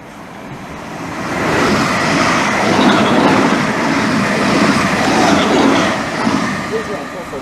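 A TfL Rail service pulls into Romford station on the Great Eastern Main Line. A loud, rumbling train roll builds and holds with wheel noise and clatter, while a voice talks over it near the platform.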